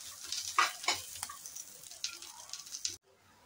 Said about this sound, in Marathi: या तिखटाच्या 4 त्याच्यात घालून चांगलं मसाला भाजून घ्यायचा आहे।